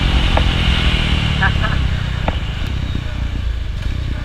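A motorcycle on its first ride out in five months, its engine rumbling steadily and close throughout with a slight dip in level midway, while a rider talks over it.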